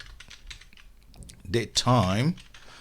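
Light typing of code on a computer keyboard, a soft patter of key clicks near the mic that is briefly joined by someone speaking toward the end.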